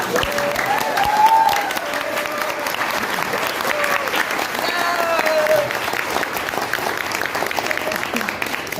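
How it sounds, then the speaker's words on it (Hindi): A crowd claps loudly and steadily for several seconds, the applause holding its level throughout with a few faint voices and whistles mixed in. "ताली बजाओ एक बार।"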